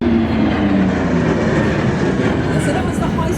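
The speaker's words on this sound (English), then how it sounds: "that was the high-speed pass" A warbird makes a high-speed pass at 300 feet during an air show at Wanaka, a loud, sustained roar whose engine tone sinks as it goes by, with faint talk beneath.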